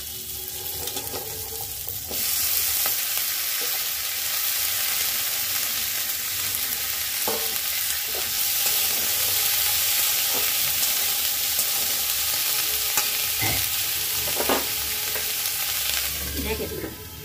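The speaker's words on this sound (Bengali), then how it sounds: "ফুলকপি আলুটা অনেকটা ভাজা ভাজা হয়ে এসেছে" Cauliflower and potato fry in a pan with a strong, continuous sizzle, with occasional scraping stirs from a spatula and no talking.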